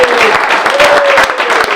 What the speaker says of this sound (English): how about a round of applause for the real birthday person,